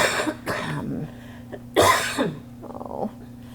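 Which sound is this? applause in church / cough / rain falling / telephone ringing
cough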